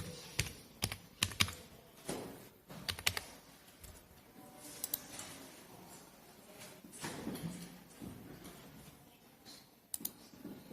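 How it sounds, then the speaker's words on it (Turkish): Someone types on a computer keyboard in quick irregular bursts of clicking keystrokes with pauses between, close but quiet, with no talking. "Küçük harfle yazayım bakayım."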